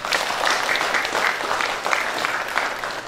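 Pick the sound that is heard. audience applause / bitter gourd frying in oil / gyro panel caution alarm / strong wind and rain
audience applause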